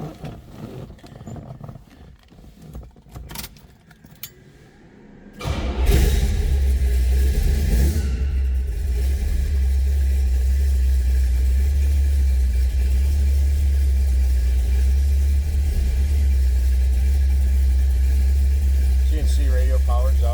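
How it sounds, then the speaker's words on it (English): A 1972 Chevrolet Chevelle 396 V8 cranks and catches after a few quiet seconds, then settles into a loud, deep, steady idle rumble heard up close. "Let's start this thing up so we can hear it run."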